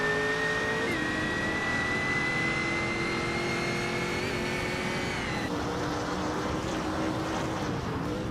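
A 2006 Panoz Esperante GTLM Evo race car in a racing video game, its engine droning loud and steady, with pitch drops at two gear shifts as it revs through the gears.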